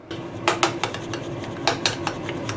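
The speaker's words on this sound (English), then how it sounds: "And we're going to stir it all in." Metal spoon clinking and scraping against a bowl while hot mustard is stirred into mayonnaise, a handful of sharp taps and clatters in an irregular rhythm, close and fairly quiet, with no talking.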